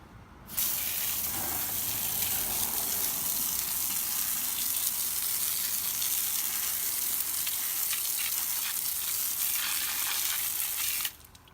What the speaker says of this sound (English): rinse off with a blast from the hose. So get my hose crunk up here